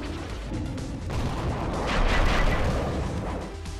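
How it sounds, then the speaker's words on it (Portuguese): Rapid gunfire in the side-scrolling action game Hell Yeah! Wrath of the Dead Rabbit comes as a dense, continuous barrage of booming shots and blasts that swell louder midway through. "Vou soltar o tiro em sequência."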